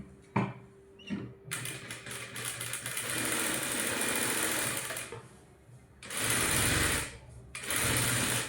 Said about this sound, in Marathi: वरून अशी दाब शिलाई घ्यायची